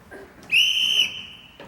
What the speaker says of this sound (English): you can have this whistle back, Captain, for I will not be needing it